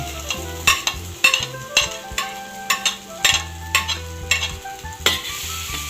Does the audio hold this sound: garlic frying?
yes